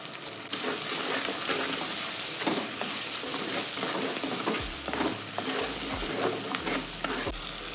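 Onions and green chilies fry with a continuous sizzle in a clay pot, repeated scraping spoon strokes stirring, close and steady, with faint low clunks underneath.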